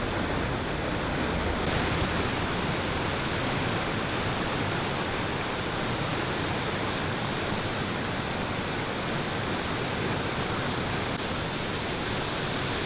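Significant waterfall on a brook trout stream with runs and pools, a steady, loud broadband roar of falling water that holds constant throughout, with no voices.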